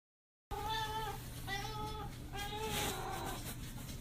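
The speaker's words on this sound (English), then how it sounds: "Soup, you're a cat" A house cat meows three times in close succession after a brief silence. Each meow is clear, drawn-out and close, over a low steady hum.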